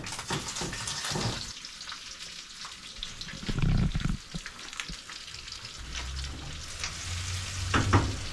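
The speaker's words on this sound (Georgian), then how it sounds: "ეხლა კიდე გახურებულ ტაფაზე გავუშვათ." Marinated beef heart hitting a hot pan, a loud close sizzle and spitting fry with occasional stirring scrapes and knocks, steady throughout with no talk.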